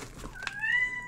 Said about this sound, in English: I'm sorry about the cat, she's in season and she keeps calling.